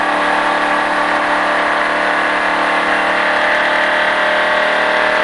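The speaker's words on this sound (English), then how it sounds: "Give it some more gas" A car engine holds a steady, loud drone as the driver gives it more gas in fourth gear during a driving session, a continuous mid-range roar with no talk over it.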